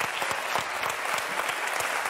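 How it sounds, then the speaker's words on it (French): A television studio audience applauds guitarist Rocky Gresset, giving a continuous wash of dense clapping with distinct individual claps standing out, steady and fairly close throughout the short burst. "applaudissez le guitariste"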